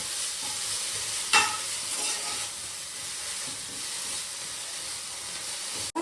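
Touch-me-not plant leaves roasting dry in a pan for a village-style chutney give a steady, even sizzle with stirring, broken by one sharper scrape near the start and a brief clatter at the end, with no talk.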